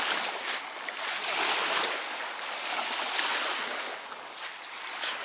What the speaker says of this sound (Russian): Посидеть, погулять у моря, шум волн.